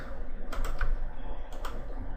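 Keyboard keys and mouse clicks while working in Photoshop, a steady run of close, crisp taps with a couple of brief louder bursts, no talking.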